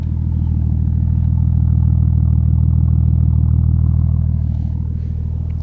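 A 1993 Nissan Skyline R33 GT25T with a turbo idles loudly and close by, its deep, steady rumble holding even throughout with a faint rhythmic clatter on top and no talking.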